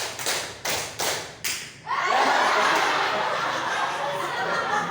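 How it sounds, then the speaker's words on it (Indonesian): A group in a class session claps four separate beats in a counted pattern, each a sharp thud with a short gap, then a sustained burst of fuller clapping mixed with light laughter. "Tepuk 1, tepuk 2, tepuk 3, tepuk 4."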